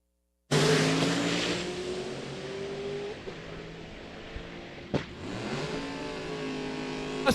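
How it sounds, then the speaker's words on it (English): Ford Mustang drag race cars, including a white Cobra Jet, launch at Cordova Dragway: a sudden loud engine roar starts, then the pitch climbs through gear changes as the cars pull away, with a sharp shift snap midway. "Mustangs going down the racetrack"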